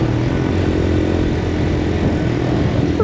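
A Papio SS mini-moto's six-speed engine runs smoothly, a steady low drone close by with a faint high whine, holding level throughout.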